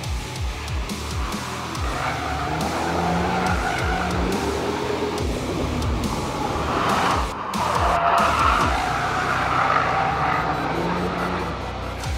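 Tires squeal and wail continuously over a loud car engine as the car understeers through a corner, the screech rising and falling, with no talking.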